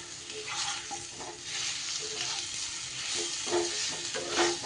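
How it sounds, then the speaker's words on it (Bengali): Potatoes and taro chunks stir-fried with spices in oil over a low flame, a steady close sizzle broken by repeated scraping strokes of a spoon against the pan, with no voices. "এবার নাড়িয়ে চাড়িয়ে একটু সময় এইভাবে লো ফ্লেমে মশলার সাথে ভাজা ভাজা করে নিতে হবে"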